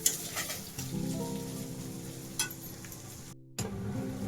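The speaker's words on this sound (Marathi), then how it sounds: "तो कांदा पण चांगला भाजून घेऊया" Chopped onion roasting in a pan with garlic for a homemade sukat pav street-food dish: a soft, steady sizzle with light crackling, a sharp tap at the start, and a brief gap near the end.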